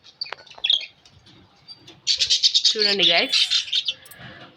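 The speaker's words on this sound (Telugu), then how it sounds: "ఆస్ట్రేలియన్ లవ్ బర్డ్స్ అనమాట." Australian lovebirds kept at home chirp in a loud, rapid burst of high tweets close by, after someone speaks briefly at the start.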